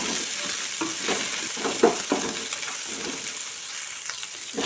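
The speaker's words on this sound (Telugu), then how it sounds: "ఈ కొత్తిమీర, పుదీనా ఆయిల్లో ఫ్రై అవ్వటం వల్ల ఈ పలావ్కి చాలా టేస్ట్ వస్తుంది" Coriander and mint leaves sizzle in hot oil for a chicken pulao, with a steady crackling fry and occasional stirring scrapes in the pan close by.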